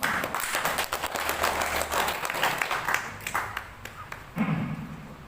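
Audience applause rings out at an oyster mushroom farming training session, a steady crackle of many hands clapping for several seconds, then thinning out as a voice begins speaking near the end.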